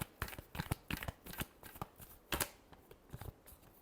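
A deck of tarot cards gets a quick final shuffle by hand, a close, quiet patter of papery flicks and taps with a sharper snap near the middle.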